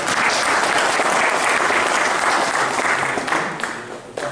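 Audience applause at a dog trial event in Saint-Michel-de-Lanès, a dense, steady burst of clapping from a crowd that holds strong and then thins out toward the end.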